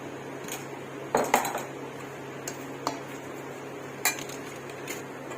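Spices being stirred into chicken pickle in a metal pan, with a few clinks of a spoon against the pan spread across the clip and a low steady hum behind them.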